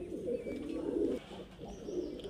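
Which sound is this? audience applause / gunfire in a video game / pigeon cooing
pigeon cooing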